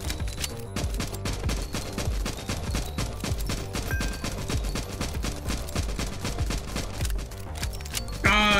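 Rapid, relentless gunfire in the game Nimrods Guncraft Survivor, dense shots rattling in a fast continuous stream for several seconds, ending with a brighter burst of effects.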